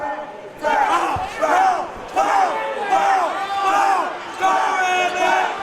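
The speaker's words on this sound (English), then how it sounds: "And this crowd has really gotten behind Rabbit." A loud arena crowd roars and cheers in repeated surges during an amateur MMA fight, with shouts rising and falling over several seconds and a commentator talking underneath.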